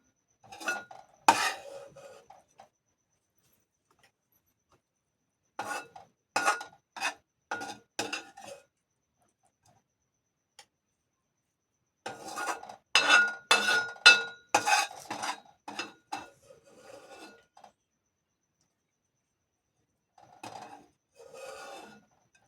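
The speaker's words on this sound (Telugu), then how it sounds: "ఇప్పుడు నేనైతే మిక్సీ జార్లోకి వేస్తున్నా" Cooled whole spices are tipped into a steel mixer jar in several bursts of rattling and clinking, close and crisp, separated by quiet pauses.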